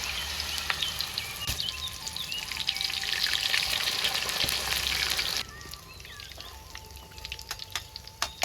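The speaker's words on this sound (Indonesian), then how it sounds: "Udangnya digoreng, Lur." Battered shrimp frying in oil, a dense crackling sizzle that suddenly drops to a quieter bubbling with scattered pops and spits, close by, no talking.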